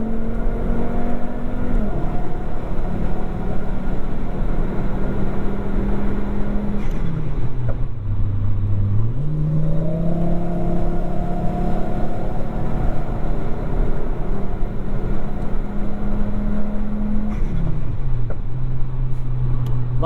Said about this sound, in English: Love the pops every time you let off at that those speeds.